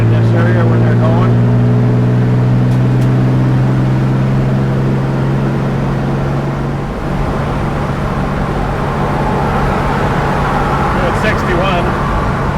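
A 1953 Dodge pickup cruises on the I-5 highway at around 60 mph, its engine droning steadily from inside the cab, with continuous road and wind noise and speech heard over it.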